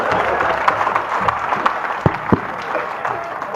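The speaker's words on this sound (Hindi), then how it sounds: "तालियां बजाओ।" Scattered audience applause at a live Haryanvi comedy show, moderately close, with a few sharper individual claps standing out over a steady crowd clapping texture and no talk.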